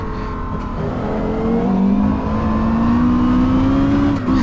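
A Porsche Carrera GT engine drives with cold tires, a loud, steady, high-pitched mechanical wail that rises gradually as the car pulls, close and continuous without any talking.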